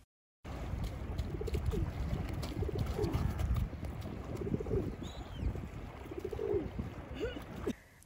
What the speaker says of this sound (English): upon stopping to feed some birds with bread smuggled out of various restaurants